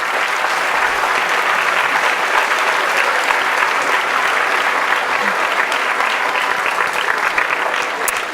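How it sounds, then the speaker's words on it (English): A kindergarten musical audience gives sustained, dense applause, a loud, continuous wash of many hands clapping at once that holds steady from start to finish. "Give a nice round of applause to Mrs. Lauren Gertler."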